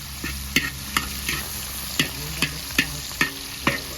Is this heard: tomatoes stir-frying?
yes